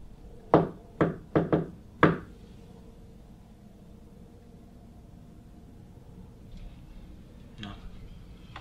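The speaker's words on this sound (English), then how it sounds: "Knock back if you want us to stay" Five sharp knocks on a hard surface aboard the Queen Mary ship, an uneven cluster within two seconds, fairly close and clear against a quiet, hissy room, followed by faint distant sounds.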